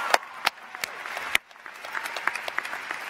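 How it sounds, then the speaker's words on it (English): Sparse applause at a Class of 2022 commencement ceremony, a few sharp individual claps ringing out over a quieter spread of scattered clapping, moderately distant. "Round of applause."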